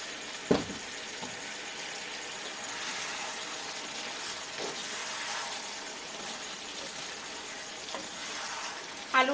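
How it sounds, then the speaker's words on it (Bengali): Fried potatoes going into a pan of simmering chicken curry: a soft, steady sizzle and bubbling with a few faint clinks and taps, quiet throughout. "এখন আমি এর মধ্যে ভেজে রাখা আলুগুলোকে দিয়ে দিচ্ছি।"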